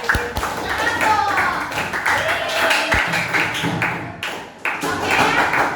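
Scattered clapping from a classroom of students, uneven and moderately near, with voices chattering over and between the claps.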